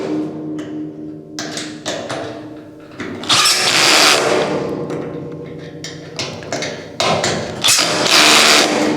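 A cordless drill with an extension driving caster screws into a Recteq Deck Boss 800 grill cart, loud close whirring bursts of varying length with brief pauses and rising motor pitch, no talking.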